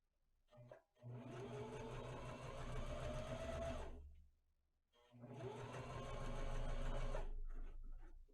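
A sewing machine stitches a fabric mask in two quick bursts of rapid mechanical whirring, each about three seconds long, with a short pause between them; close and fairly quiet.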